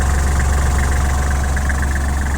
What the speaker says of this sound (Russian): слышно уже сейчас, что работает трактор отлично, ровно, без лишних призвуков